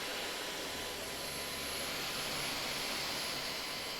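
Miele Duoflex HX1 stick vacuum cleaner running with its brush spinning, a loud, steady whooshing motor roar with a high whine that holds unchanged throughout.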